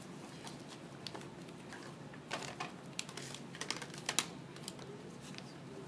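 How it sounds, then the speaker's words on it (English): A paper envelope being folded in half and creased, faint crisp rustles and small scratchy taps that cluster toward the end, quiet and close with no talking. "The last fold is that I'm going to fold this exactly in half."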